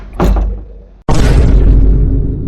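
Door shut hard in someone's face, a loud impact that cuts off abruptly and is followed by a strong, sustained rumbling boom and hiss that lingers close and heavy.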